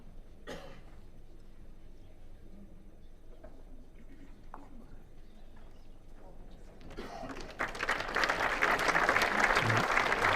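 A capacity crowd at an indoor bowls match in West Lothian sits in quiet with occasional coughs, then breaks into a swell of appreciative applause that grows loud over the final few seconds.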